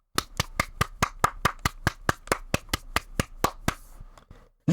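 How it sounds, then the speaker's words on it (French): A single person clapping hands during a story reading, about twenty crisp, evenly spaced claps at a brisk steady rhythm, close and clear, slowing and fading out at the end. "Tout le monde applaudit."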